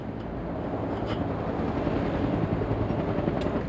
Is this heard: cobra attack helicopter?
yes